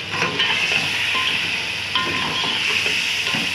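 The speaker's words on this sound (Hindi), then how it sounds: "ये देख लें कि कितनी अच्छी तरह से भून रही है" Chicken fries with salt in a pan, giving a steady, close sizzle and hiss with faint stirring scrapes underneath and no voices.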